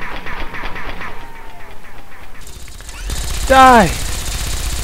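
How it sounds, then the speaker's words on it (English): A Gatling laser in Fallout 3 fires a rapid, pulsing stream of shots over the first couple of seconds. Then someone shouts, and a loud, warbling creature cry rises and falls. "I've got my own Gatling laser."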